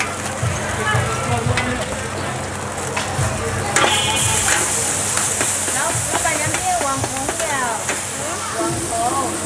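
Mala skewers fry at a street food stall on Pulau Ketam island in Malaysia, a continuous sizzle and clatter under nearby people talking and general stall bustle.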